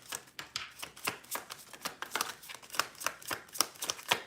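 Tarot cards are shuffled close by in a quiet room. A quick series of soft, crisp riffles and slaps repeats in an uneven rhythm, with no voices.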